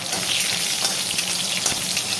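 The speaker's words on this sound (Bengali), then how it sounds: "তারপর এভাবে পাঁচ ফোড়নটাকে ফুটতে দিলাম আর কাঁচা লঙ্কাটা একটু তেলটা বেরিয়ে এলো" Panch phoron spices and slit green chilies frying in hot oil, a dense, even crackling sizzle heard up close and fairly loud throughout, with faint pops and no talking.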